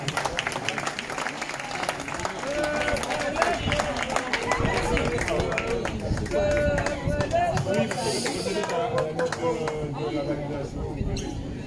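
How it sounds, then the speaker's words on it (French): At a tennis tournament, the audience applauds as a player is introduced, a steady patter of clapping from a modest crowd with chatter and voices mixed in. "Je vous demande d'applaudir Monsieur Liova Ajavon."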